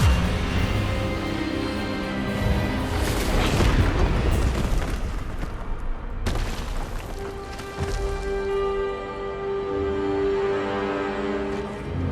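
Expelliarmus spell cast in Hogwarts Legacy: a loud magical blast bursts out and booms, then a rumbling crackle follows before cutting off sharply, and a sustained ringing tone trails afterward.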